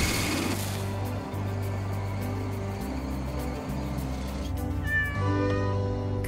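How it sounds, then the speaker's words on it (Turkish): A cat meows repeatedly, loud and close, in drawn-out, plaintive calls over a low steady hum, alone with no talk. "Kamyonun mu miyavlıyor?"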